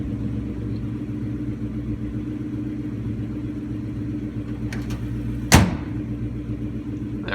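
A 2004 Mustang Cobra engine idling after warming up, a low steady rumble close by with one brief sharp clunk partway through.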